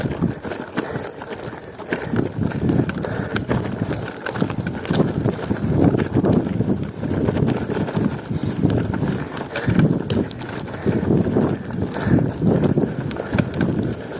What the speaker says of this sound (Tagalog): Ay, ito na yung kabayo.